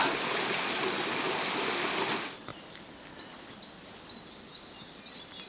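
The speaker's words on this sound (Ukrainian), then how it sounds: "Ліс розділений навпіл стрімким потоком забрудненого струмка" Rushing water of a fast, polluted forest stream after rain roars loudly for a couple of seconds, then drops away, leaving quiet chirping birds.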